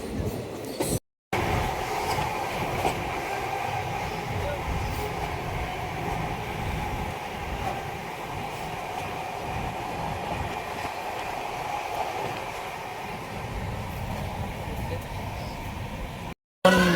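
A train crosses the Farakka bridge in India over low water, giving a steady, loud rolling rumble and rattle of carriages that continues almost unbroken throughout.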